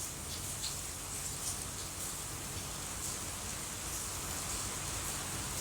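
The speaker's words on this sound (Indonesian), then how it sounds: "Iya, hujannya deres banget Imela." Heavy rain pouring down, a dense steady hiss with faint patters on a surface running continuously throughout, no voices.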